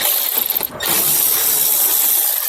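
A ratchet works 7mm screws loose from the dash radio of a 2005 Chevy Malibu Classic, giving a rapid, close, dense clicking with a short pause near the start before it runs on steadily.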